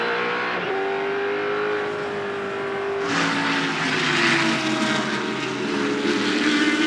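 Pontiac-powered race cars at the 2004 Rolex Sports Car Series Virginia 400 roar loudly. Engines drone as the cars brake, then a sharp, rising howl follows as they accelerate hard, with no voices heard.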